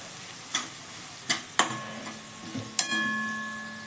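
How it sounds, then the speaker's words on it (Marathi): Spices with homemade red chili powder and ghati masala stirred and sautéed in a pan for a bitter gourd sabzi: a soft sizzle with a handful of sharp spoon taps and scrapes, close and fairly quiet, no voices. "इथं घरगुती लाल तिखट ते घालते मी, घाटी मसाला आमचा. आता हे छान परतून घेऊया आपण."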